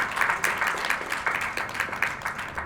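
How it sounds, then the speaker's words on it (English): Audience applause for a guest of honor, Justice Azmar Saeed, at a formal event in Pakistan: steady, moderately loud clapping from a crowd, continuous for the whole stretch. "can we have a big round of applause for Justice Azmar Saeed?"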